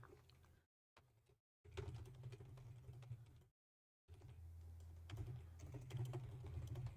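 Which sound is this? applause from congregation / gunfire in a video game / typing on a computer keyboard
typing on a computer keyboard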